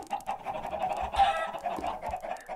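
Minecraft chickens on a game farm clucking in a steady string of short, nasal bursts, moderately loud, with a few soft game thuds underneath and no voices.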